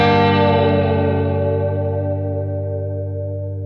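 A sustained, distorted electric guitar chord from a guitar VST plugin rings out with a wet, washy spring reverb, slowly decaying without other sounds.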